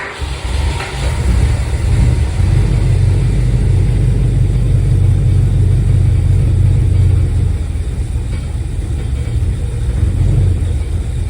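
The engine of a 1963 Dodge Dart convertible, revived after 21 years off the road, churns as it is cranked to start, a loud, steady, close low rumble that holds for several seconds without any talk.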